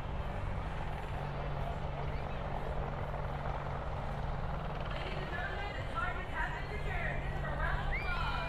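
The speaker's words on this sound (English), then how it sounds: "These guys just jumped out of that helicopter." A helicopter at a South Beach air and sea show in Miami gives a continuous, throbbing rotor and engine roar at moderate distance, steady from start to finish with faint crowd sounds underneath.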